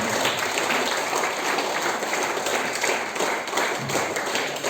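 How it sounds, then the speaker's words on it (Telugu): Audience clapping steadily as guests are welcomed onto the stage at a National Youth Day celebration hosted by Ramakrishna Mission, Kadapa; dense, continuous applause at moderate distance throughout, with no talk over it. "చప్పట్ల మధ్య ఆత్మీయ చప్పట్ల మధ్య"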